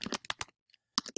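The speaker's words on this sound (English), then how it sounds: "gonna have to put up with my typing here" Fast typing on a computer keyboard during a college history lecture review, with several sharp, close key clicks in quick bursts, a brief gap of near silence, then another quick cluster of keystrokes.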